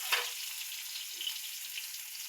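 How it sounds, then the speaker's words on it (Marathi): Chopped onion frying in oil in a pan makes a steady, soft sizzle and hiss that runs evenly throughout, with no voices. "हे बघा, कांदा चांगला फ्राय होऊ द्यायचा बघा."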